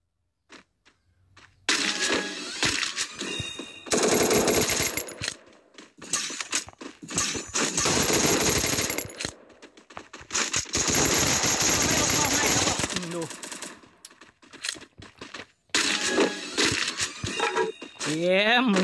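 Bursts of rapid automatic gunfire from the mobile battle game Free Fire, loud and clustered in several long volleys, separated by gaps of quieter game sounds, with someone talking over parts of it.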